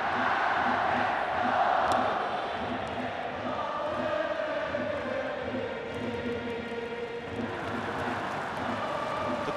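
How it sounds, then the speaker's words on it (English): Fans at a Japan versus Netherlands international baseball game sing and chant in unison, a rhythmic drum-backed crowd chorus that carries from a distance and keeps going the whole time after a three-run home run. "The crowd, the songs, the chants have a little more gusto now after the three-run homer by Nakata."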